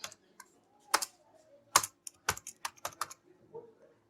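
Someone types code on a computer keyboard, a quick irregular run of close, crisp keystrokes with short pauses between bursts and no talking.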